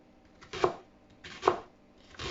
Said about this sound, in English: I'm just gonna cut some onions.